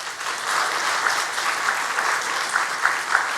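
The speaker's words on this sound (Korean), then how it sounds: "박수 한번 보내겠습니다" Church congregation applauding during a Sunday worship service, a sustained, even round of many hands clapping with a few louder individual claps standing out.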